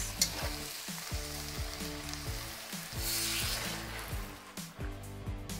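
Beef stir fry sizzles loudly in a hot gas-fired pan as sauce is tossed in and mixed, with steady frying hiss and scraping stir strokes throughout, no voices.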